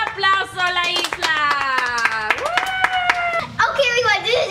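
A family claps for a girl during a home chile-eating challenge, quick hand claps scattered among high, lively voices, with someone talking and a sung cheer running through most of it.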